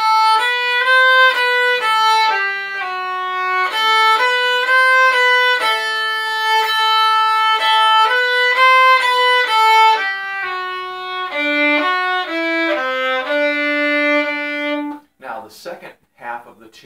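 A violin plays the first half of the fiddle tune Old Joe Clark as a lively run of distinct bowed notes that keeps a steady bouncing rhythm for about fifteen seconds. It ends on a held low note, followed by a brief scrape.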